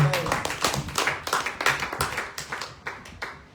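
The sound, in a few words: church congregation applauding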